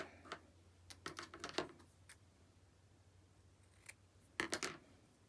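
Scissors snipping lace for a decorated journal cover, a few quick clusters of sharp close cuts separated by quiet pauses, soft and with no voices.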